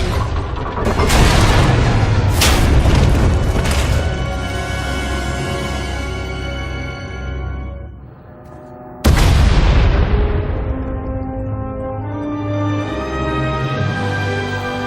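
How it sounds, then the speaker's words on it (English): Loud, booming explosions in a video game (Star Wars: The Old Republic, Knights of the Eternal Throne) roll out in heavy bursts with rumbling decay, then a second big blast hits around the middle and echoes away as a tunnel collapses. "We heard explosions."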